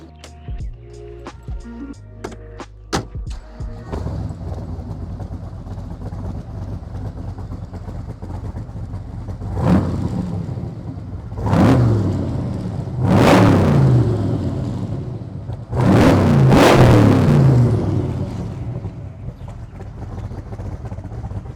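AC Cobra sports car engine starting up, with a few sharp revs and bursts rising over a rumbling idle, fairly close and loud.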